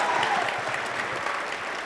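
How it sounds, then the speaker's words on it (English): A game show studio audience gives a brief, loud burst of dense applause, many hands clapping at once and fading slightly toward the end. "Now, a big round of applause for Phil."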